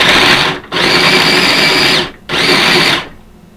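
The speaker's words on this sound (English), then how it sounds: "I'm going to put it in my mill here. Alright, let's go. And chop it up really nice." An electric mill chopping garlic, two loud whirring bursts of the motor running close by, separated by a brief pause, then winding down.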